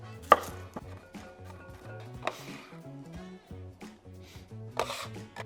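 A knife chopping a medium onion on a board while cooking over a fire, with crisp, uneven cuts and a scraping rub as pieces are moved, close and clear with no talk.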